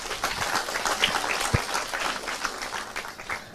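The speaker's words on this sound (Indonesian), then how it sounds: "Tepuk tangan dulu buat Mas Agung" A dense, low-level patter of clapping from a seated audience at a discussion gathering, steady and fairly soft for the few seconds it lasts.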